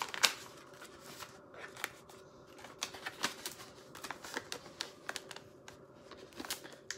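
Paper wrapping of a Cartier gift package being unfolded by hand, a close series of irregular crisp crinkles and soft snaps scattered over several seconds, with no talking.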